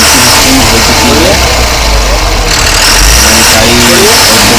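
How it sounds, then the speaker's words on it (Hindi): A BS4 motorcycle engine running smoothly after a misfire and knocking fix, a loud close steady hum with slight pitch swells like gentle revving, under someone speaking. "हमारी जो इंजन की जो साउंड है वो बिल्कुल हो चुकी है"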